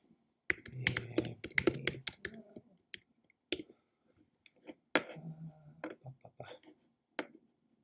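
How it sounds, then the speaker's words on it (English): Quiet, uneven clatter of keys typed on a computer keyboard, picked up by a built-in microphone, in short bursts with pauses between. "Let me try typing."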